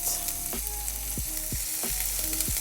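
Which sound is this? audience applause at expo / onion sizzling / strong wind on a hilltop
onion sizzling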